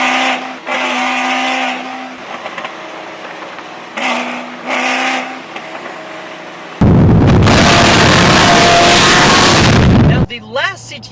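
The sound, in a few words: 600 WHP Cadillac CTS-V engine and exhaust roaring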